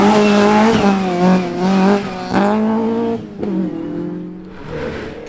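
A Vauxhall Nova Class 3 rally car runs at full throttle on a stage at Aghadowey, its engine revving hard and close through rising and falling gear pulls, with a brief tyre squeal as it drives on.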